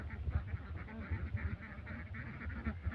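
Egg-laying ducks on a farm quack in a busy, continuous chorus, with overlapping calls close by at moderate volume and no voices.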